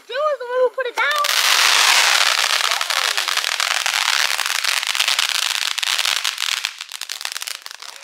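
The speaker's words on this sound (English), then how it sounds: "I got chased by a firework, literally." A firecracker set off at a Fourth of July gathering bursts into a long, loud run of rapid crackling pops lasting several seconds and then fading, with brief voices just before it starts.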